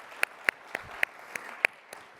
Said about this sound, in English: you can clap, why not, right?